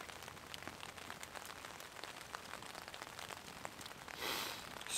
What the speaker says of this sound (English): The crackle of the fire and the rain on the tarp